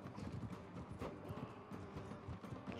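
Horse galloping in a cavalry charge in the video game Mount and Blade 2: Bannerlord, dense rapid hoofbeats under a busy battle wash with no pause.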